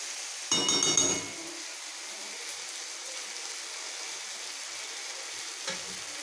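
Food being fried down and stirred in a pan during home Bengali cooking: a steady close sizzle throughout, with a busier burst of stirring clatter near the start and a brief scrape near the end.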